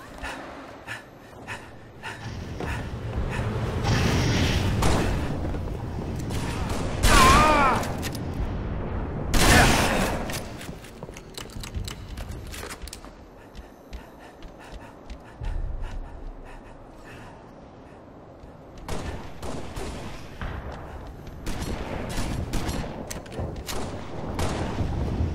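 Shotgun blasts ring out during a zombie-killing spree in a video game, coming as scattered loud bursts among heavy breathing and pauses with some background sounds.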